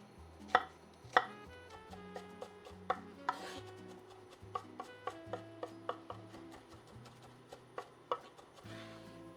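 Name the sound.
knife chopping an onion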